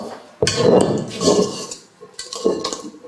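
Choux pastry dough being mixed in a bowl, with clattering scrapes of a utensil against the bowl in three short bursts separated by brief pauses, close by.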